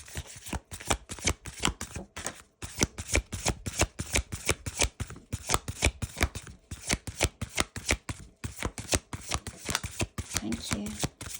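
A deck of tarot cards is shuffled over and over by hand, a steady run of crisp riffling flutters and snaps, close and fairly quiet, and no one speaks.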